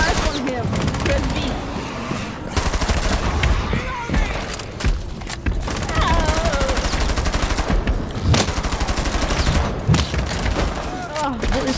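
Heavy sustained gunfire in Rainbow Six Siege's Outbreak mode, loud rapid automatic bursts with brief pauses and occasional thuds, close up, while voices talk over the shooting.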